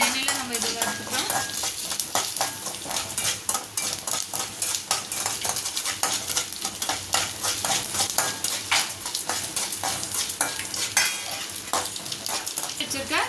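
Mustard seeds, urad dal and chana dal fry in hot oil with a steady close sizzle, while a spoon scrapes and clinks against the pan throughout.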